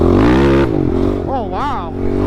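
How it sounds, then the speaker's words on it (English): A XTravel TRX450R sport quad engine revs loud and close for under a second, then drops to a rough idle while a voice exclaims excitedly over it. "It's like a monster sport quad."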